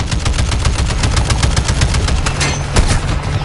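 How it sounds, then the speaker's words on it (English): Rapid bursts of gunfire in a PS4 shooter, loud and close, with sharp repeated shots in a fast, uneven rhythm and a steady engine rumble underneath. "I'm taking fire!"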